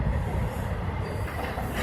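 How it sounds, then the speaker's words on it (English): A Union Pacific intermodal stack train rolling past a road crossing, a continuous rumble of wagons with wheel noise and faint squeal, moderately close and steady throughout, no talking. "This train just came out of nowhere"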